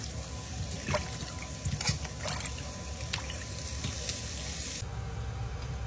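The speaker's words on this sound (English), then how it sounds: "For the second recipe, I need to rinse the potato." Potatoes are rinsed in water in a kitchen, with a continuous sloshing, trickling wash and a few splashy clatters close up before it settles into a steady rush.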